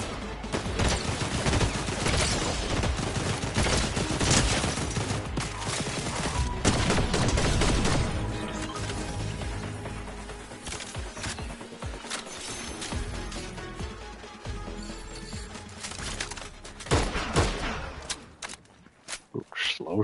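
Gunfire in the video game Fortnite: dense, rapid bursts of shots over a constant loud game din, with a voice speaking at times.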